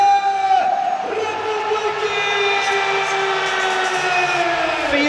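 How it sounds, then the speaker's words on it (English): A big home crowd roars in the O2 Arena during a Czech Republic v Finland men's floorball world championship semi-final, a loud sustained chant that swells and slowly falls in pitch, distant and unbroken. "Feel the roar from the Czechs' 5th line, the crowd here in the O2 Arena"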